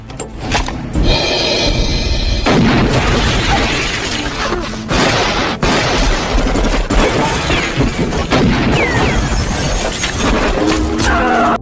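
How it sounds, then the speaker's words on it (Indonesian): Intense gunfight in an action film about a vengeful former marine: a dense, loud, continuous barrage of crashes, shattering and sharp impacts with no pauses, and no voices. "sehingga aksi baku tembak sengit tak dapat lagi dihindari"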